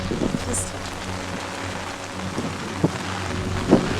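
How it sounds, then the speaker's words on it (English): Rain falls steadily in windy weather while someone walks outdoors to school in California, a constant wet hiss with occasional heavier thumps and gusty rumble, close and fairly loud. "There's like wind and rain everywhere, and I'm walking to school"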